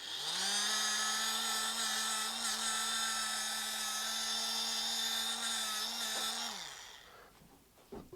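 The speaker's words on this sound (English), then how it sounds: "So I'm sure I can control the polisher with one hand." Electric polisher buffing an electric guitar body whines at a steady high pitch for several seconds, then spins down and stops, close and loud with no talking.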